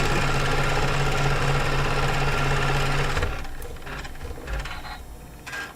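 A sewing machine runs loud and steady, with a dense mechanical whir and rapid stitching rattle, then stops partway through, leaving quieter irregular handling clicks and rustles.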